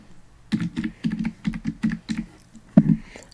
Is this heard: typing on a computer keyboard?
yes